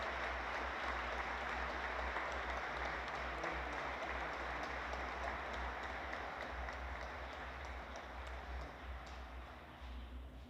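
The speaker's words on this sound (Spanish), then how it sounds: "les pido un fuerte aplauso para nuestro sacerdote" Church congregation applauding its priest before Sunday Mass, a soft, fairly distant patter of clapping that holds steady and slowly fades over several seconds.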